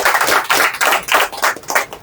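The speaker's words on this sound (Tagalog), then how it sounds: "Palakpak!" Audience at a skills-sharing community gathering claps loudly in a quick, even rhythm, with about eight distinct bursts of hand claps in close succession and no talking.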